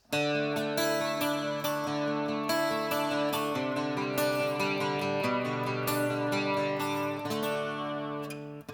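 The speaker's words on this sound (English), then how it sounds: "So next up is the chorus effect built into the HyVibe" A carbon fiber acoustic guitar plays a steady run of chords with a shimmering, slightly wavering built-in HyVibe chorus effect, sustained and fairly loud throughout.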